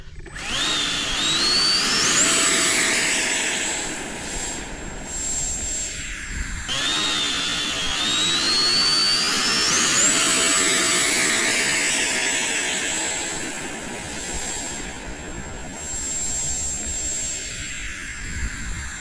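An FMS F18 model jet's motor runs in flight at Eastgate Park in Dothan. It gives a loud, steady rushing whine that twice climbs sharply in pitch and then holds high, with no talking.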